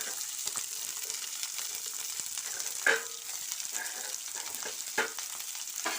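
Spices and fenugreek seeds fry in a pan with a faint, hissing crackle that runs steadily, punctuated by a couple of brief spoon taps and scrapes, heard up close.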